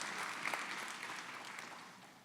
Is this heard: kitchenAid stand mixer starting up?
no